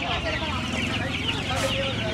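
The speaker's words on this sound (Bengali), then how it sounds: "আচ্ছা, এই দেখুন এখানে মোরগ আছে।" Roosters and hens at a busy poultry market in Uluberia, loud overlapping clucking close by over constant crowd murmur and people talking.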